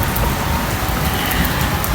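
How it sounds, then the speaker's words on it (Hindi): Steady heavy rain pours down at night in a village, a dense continuous hiss with constant drumming on surfaces and no voices. "बारिश हर टाइम रात को क्यों होती है मुझे इसकी समझ नहीं आती"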